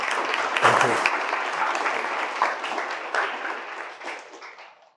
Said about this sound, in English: So let's welcome Amit with a big round of applause.